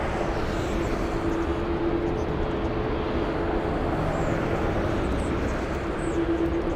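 A Lockheed C-130 Hercules at LAX gives off a steady, unbroken engine roar with a faint droning hum, loud and constant throughout.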